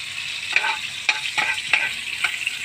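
Sea shell sisig with onion and garlic is stirred in a hot pan, a spatula scraping in several distinct strokes over a steady close sizzle.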